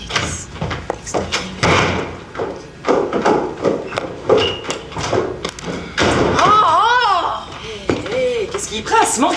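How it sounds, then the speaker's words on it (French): A door slams shut indoors with several heavy thuds and knocks, heard among people talking nearby. "claquer la porte comme ça"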